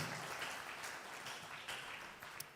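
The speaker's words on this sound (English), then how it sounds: "Let's break this silence with a big round of applause" Audience applause at a live financial leadership and governance forum, a steady, fairly quiet wash of many hands clapping with no voices, sustained evenly across the short stretch.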